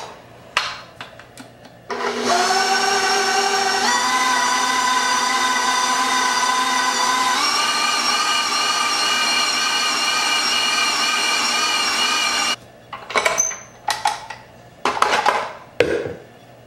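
An electric mixer runs steadily through chocolate chip cookie dough, a loud sustained motor whine that shifts pitch as the load changes, then stops and gives way to scraping and clattering knocks.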